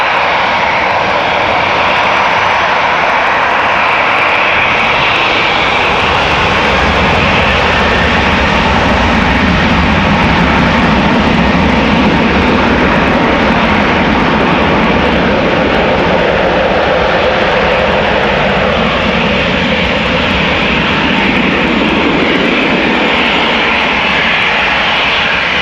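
An Airbus A320 jet at Amsterdam Schiphol Airport roars steadily for the full stretch, a loud, broad engine rush that holds close and constant with no talk over it.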